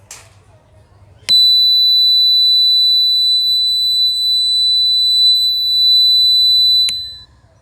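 A water tank level alarm buzzer gives a loud, steady electronic tone that starts suddenly, holds unbroken for about six seconds and then stops, with only faint low background noise before and after.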